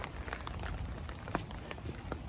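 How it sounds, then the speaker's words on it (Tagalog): Rain falls steadily, a dense hiss with scattered drops tapping on a surface, moderately loud and continuous. "Buhos ng ulan."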